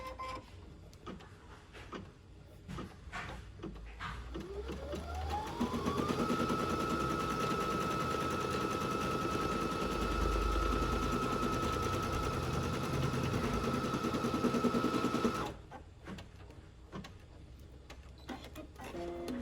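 An embroidery sewing machine stitching an appliqué pillow starts up with a rising whir, then runs in a steady, fast rattling hum for about ten seconds before stopping, with lighter tapping and handling sounds on either side.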